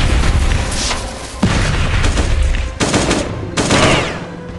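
Grenades thrown in a video game burst in a run of loud, close booms. Each blast cuts in sharply and decays roughly, mixed with rattling gunfire.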